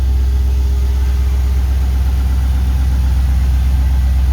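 A GM LS1 V8 engine on a run stand idles steadily at close range, a smooth low rumble with no change in pace and no voices.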